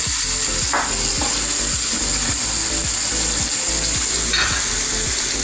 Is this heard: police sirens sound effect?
no